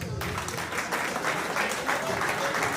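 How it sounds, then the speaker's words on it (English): Applause from an audience at a film launch event, a steady, dense wash of clapping that carries on throughout with some crowd murmur mixed in. "A round of applause,"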